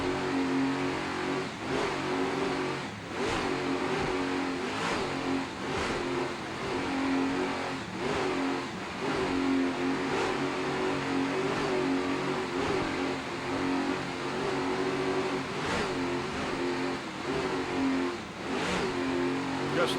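Racing car engines rev hard under throttle, a dense and continuous roar with rising and falling surges that hold steady across the whole stretch.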